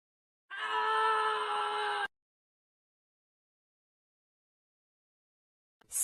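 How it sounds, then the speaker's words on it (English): A single loud, sustained scream lasts about a second and a half, then silence follows, with a sharp sound starting right at the end. "Scream."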